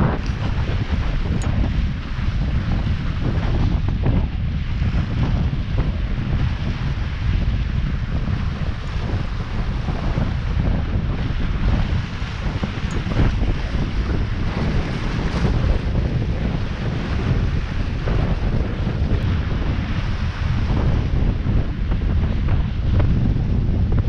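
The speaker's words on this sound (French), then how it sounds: "Jusqu'à 31 nœuds dans les rafales." Strong wind gusting up to 31 knots roars on a sailboat at sea in the Gulf of Patras. Heavy, steady buffeting of the microphone goes on without a break and is mixed with the wash of waves. No one speaks.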